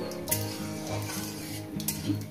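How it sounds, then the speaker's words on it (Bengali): Cumin seeds and dried red chillies crackle in hot oil, a continuous close sizzle with small pops, backed by soft music. "দিয়ে দেবো একটু জিরে, দিয়ে দেবো একটু শুকনো লঙ্কা, একটু ফাটিয়ে দিলাম।"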